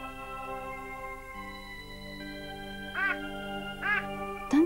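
Cartoon duck quacks, three short nasal calls spaced about a second apart over a steady background of sustained musical tones, with no talking.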